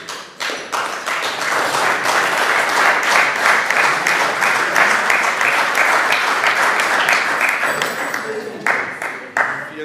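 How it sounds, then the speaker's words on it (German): Steady, dense applause from a room of people at a handball press conference after TV Hüttenberg's 35:31 home game against VfL Eintracht Hagen, continuing for about ten seconds at even strength before thinning briefly near the end. "Vielen Dank für den Zwischenapplaus"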